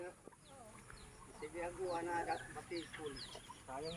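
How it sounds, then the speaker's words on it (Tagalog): Several chickens cluck and chatter nearby, overlapping calls in an irregular rhythm at moderate volume, with no one speaking. "Daghan silang manok, oh."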